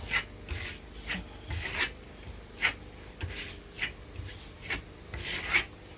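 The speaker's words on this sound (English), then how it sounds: "by polish, I mean scraping like that across the plaster" Scraping strokes across white plaster on a wall, polishing the surface: about a dozen close, rhythmic rasping passes, each a short, gritty rub that repeats steadily with brief gaps.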